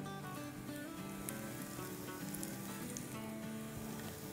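Pakora batter frying in oil in a pan, a steady dense sizzle and crackle running evenly throughout with no voices.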